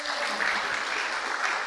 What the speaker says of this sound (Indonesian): tepuk tangan coba.